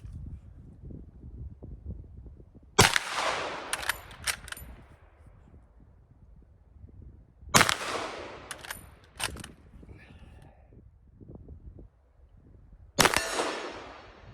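A Hanyang Type 88 rifle chambered in 7.92x57mm fires loud, sharp single shots outdoors, each followed by the metallic clatter of working the bolt, with wind noise and quiet pauses between rounds.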